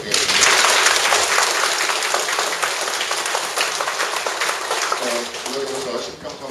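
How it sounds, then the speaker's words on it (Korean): Audience applause at the closing of a 140th anniversary symposium held for a Catholic mission station in Korea, a dense burst of clapping that gradually thins, with a voice speaking faintly near the end. "큰 박수 한번 부탁드리겠습니다"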